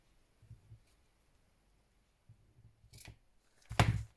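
Scissors snip paper while a six-fold handmade book is put together, two soft snips early on, then a sharper, louder cut near the end, close by in a quiet room.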